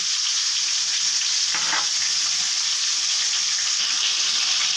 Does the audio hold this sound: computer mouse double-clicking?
no